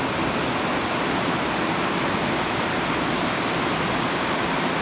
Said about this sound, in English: Sounds like a waterfall.